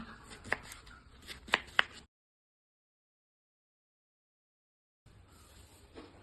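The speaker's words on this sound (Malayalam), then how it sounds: "മത്തനെ ചെറിയ കഷ്ണമാക്കി മുറിച്ച് വേവിക്കണേ" A knife cuts pumpkin into thin pieces on a board, with a few crisp chopping knocks close by, then silence and a faint low hum.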